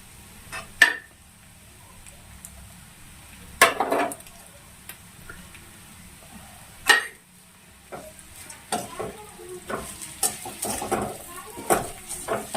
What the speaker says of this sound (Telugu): ఇప్పుడు ఇవన్నీ కలిపి దీంట్లో వేసేసుకుందాం మనం